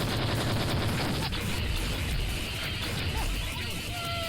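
Steady gunfire from a heavy-recoil gun in the game Brazilian Drug Dealer 3, continuous loud shots blended with constant game noise, with a person talking over it.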